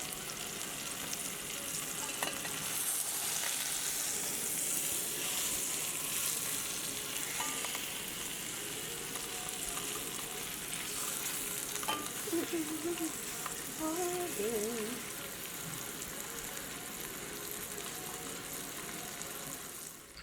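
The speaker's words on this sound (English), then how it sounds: "Okay, my searing of the meat is done." Floured chuck roast sears in a hot pan, giving a steady, fairly loud frying sizzle throughout, with faint stirring and kitchen clatter mixed in.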